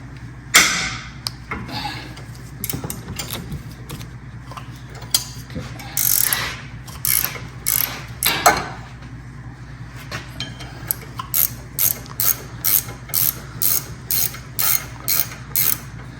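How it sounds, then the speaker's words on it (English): A gear wrench ratchets on a bolt during rotor removal, giving bursts of sharp clicking, with a quick regular run of clicks toward the end. "I got a gear wrench on it. Put my gear wrench on there."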